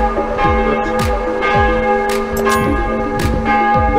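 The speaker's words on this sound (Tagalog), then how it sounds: "The church bell is ringing. Now it's ringing." Church bell tolling inside the bell tower of St. Michael Church in Stadtsteinach, loud and close, with repeated strikes at a steady rhythm and long ringing hum sustaining between them, no talk.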